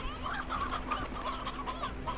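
Slime Rancher chicks: small high chirps and clucking calls repeat quickly over a low steady hum, soft and close, with no talking.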